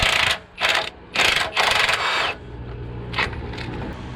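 A wrench breaks loose a nut on the control arm of a 2007–2013 Chevrolet Silverado during a lift install, giving several close, bursty metallic ratcheting strokes followed by quieter clicks.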